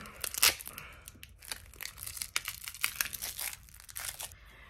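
Masking tape torn from a roll and pressed on, giving a run of sharp tearing and crinkly rustling bursts, close and fairly quiet, with no talk.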